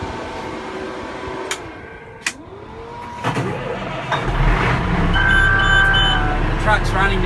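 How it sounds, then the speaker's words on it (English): A truck engine cranks and starts back up on a vehicle with an Atlas Copco MT6020 electric DC air conditioning unit, settling into a steady running rumble alongside whining tones, with a voice speaking over it. "Just going to start the truck back up."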